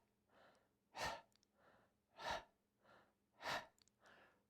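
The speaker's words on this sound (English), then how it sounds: "open your mouth, put your tongue out, and just do the panting version" Open-mouthed panting breaths with the tongue out during a Kundalini breathing exercise, heard alone: a steady rhythm of about seven breaths, alternating strong gusty exhales with softer inhales, close and fairly quiet.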